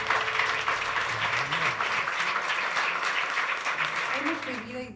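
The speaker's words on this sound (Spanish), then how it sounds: "Un buen aplauso al Señor." A church congregation claps in sustained, steady applause for several seconds, with faint voices and a low musical tone underneath.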